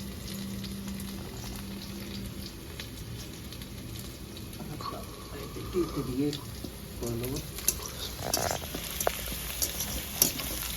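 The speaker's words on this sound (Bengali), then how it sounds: "রসুন তো হালকা ভাজা হয়ে গেছে" Chopped garlic sizzles in hot oil in a pan after cauliflower 65 has been fried, a steady low frying hiss with a few clinks and stirring sounds as a person speaks briefly.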